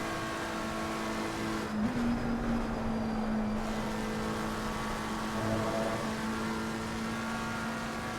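GT3 race cars, a Porsche and a McLaren, roar down a straight in a racing video game, with a steady engine drone and a rising tone as one car pulls away, continuous throughout.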